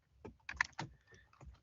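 Someone types on a computer keyboard in a burst of soft, irregular key clicks that are close and fairly quiet, with no voice over them.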